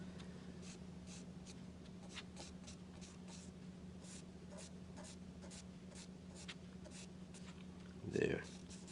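Pencil shading strokes on paper, darkening the area around an arm in a backlit drawing, a soft steady scratching of repeated strokes over a low hum, with one louder rub near the end.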